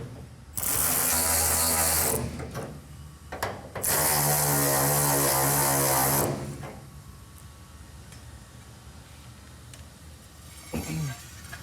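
A power tool runs in two loud sustained bursts, tightening bolts on a 1971 Road Runner 440 six-barrel 4-speed, then stops, leaving quiet clicks and a faint shuffle.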